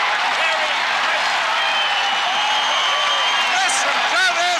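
Hockey arena crowd roaring after a Terry Crisp goal; a loud, sustained wall of cheering and clapping with whoops rising near the end, steady throughout.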